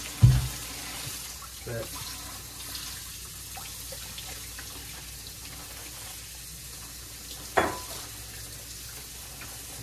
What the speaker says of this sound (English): After we salted them, rinse it off good.